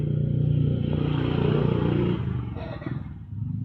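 A vehicle engine in a repair shop, its only fault a bad heater plug, starts up and runs with a loud, steady rumble before easing off briefly and picking up again near the end.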